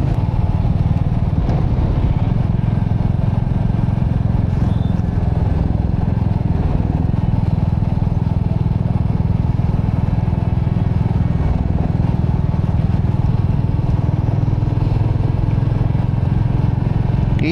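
A motorcycle engine drones steadily and close throughout a ride along a mountain road past tea gardens in Sikkim, with a constant low rumble and light rattling.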